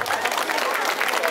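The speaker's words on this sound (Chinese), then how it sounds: "我们再给这群可爱的小妖怪们一个热情的掌声" An audience at a Christmas Eve church programme applauds a group of costumed children, a short burst of crowd clapping with some voices mixed in.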